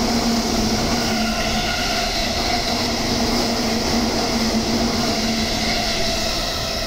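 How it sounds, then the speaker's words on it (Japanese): A steady loud rumble with a sustained electric hum as a rapid train bound for Minami-Funabashi pulls in close by at JR Maihama station, with no voices. "次の電車なんですけど、快速の南船橋方面の電車が来るらしいです"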